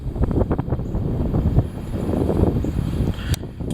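Heavy wind gusts buffet the microphone in loud, uneven bursts of rumbling rush, with a few sharper knocks and no talking.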